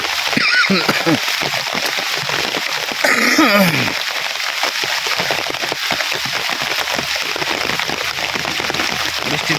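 Heavy rain pours down in a village, a steady hiss of drops drumming on surfaces throughout, with a person talking over it.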